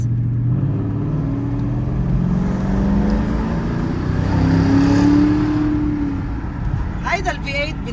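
A German car's V8 engine revs in deep, rumbling swells, rising and falling steadily for several seconds, loud and close throughout.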